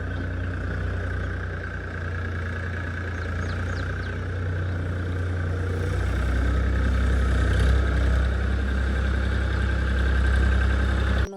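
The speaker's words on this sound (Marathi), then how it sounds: "अरे भाऊ बंद कर 1 मिनिट ट्रॅक्टर" A tractor engine idling by a river, a steady low rumble with a constant mid-pitched hum that grows slightly louder partway through, then stops abruptly at the very end.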